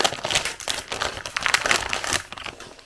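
Plastic wrapping on a packaged chocolate cream bread crinkles and tears in a rapid series of close, sharp crackles and rustles, with no talking.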